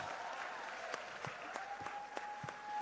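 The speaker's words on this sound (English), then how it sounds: "Let's stand up and give ourselves a round of applause." A small crowd at an International Women's Day conference claps in scattered, uneven bursts, fairly quiet and distant, with a faint steady tone running underneath.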